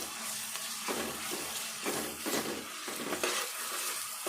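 Ginger garlic paste frying in a pan for fish curry, a steady close sizzle broken by intermittent scraping stirs of a spoon, with no talk.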